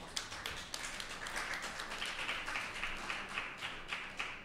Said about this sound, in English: So clap yourself